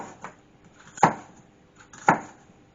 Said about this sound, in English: just slice them up